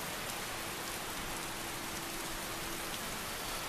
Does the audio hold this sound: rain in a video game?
yes